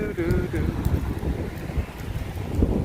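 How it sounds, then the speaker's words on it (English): Gusty outdoor wind buffeting the microphone, a steady low rumble that swells and eases throughout, with speech mixed in around it. "It's getting a bit windy."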